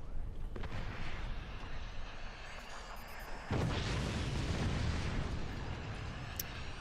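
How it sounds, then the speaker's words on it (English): Rockets, nukes and other projectiles strike in a 2v2 strategy video game match, a dense, steady roar of blasts and gunfire with a heavier explosive surge midway through. "Nukes. Rockets. All sorts of projectiles."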